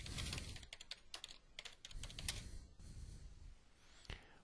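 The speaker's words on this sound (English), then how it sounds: "I simply type in the note." Fingers type a note on a computer keyboard, a quick, uneven stream of close, crisp key clicks with short pauses between bursts and a firmer final keystroke.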